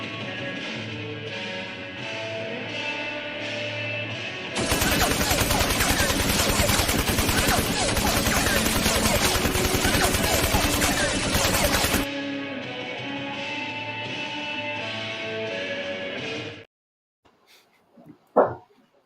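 Show opener packed with loud, dense bursts of automatic gunfire and blasts, sandwiched between rhythmic dog-like barking sections, then cutting to near silence with a couple of faint thumps at the end.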